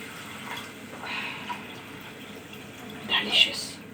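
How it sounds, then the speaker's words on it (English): Water is poured into a soup pot of roasted minced meat, tomato and pepper for Turkish tarhana soup, a short splashing pour rising near the end over quiet background, with a voice speaking. "put some water,"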